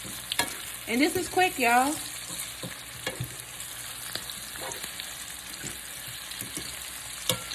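Yellow squash and onions sauté in a pan with a soft, steady sizzle and occasional stirring clatter, while a voice speaks briefly near the start.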